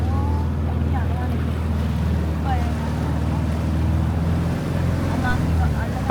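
A boat ride on a deep river near Kandy, with a steady low engine drone and water rush throughout, wind noise on the microphone, and people talking faintly.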